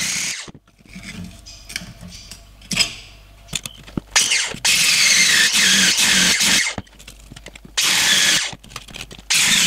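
Old spot-welded floor metal on an FJ45 Land Cruiser body mount being worked free with a power tool, a harsh, loud high-pitched grinding that cuts in and out in long bursts with short gaps and sharp clanks between them.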